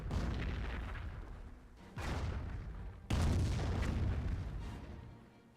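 Nebelwerfer rocket artillery in Company of Heroes unleashes heavy, rumbling launch blasts, three sharp onsets about a second apart, each swelling into a long roaring wash that slowly fades.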